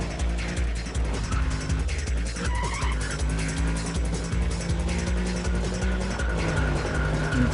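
A car skids and squeals its tires through a sluggish turn in the racing game Need For Speed: Undercover, with a steady, loud engine drone running under the continuous skid.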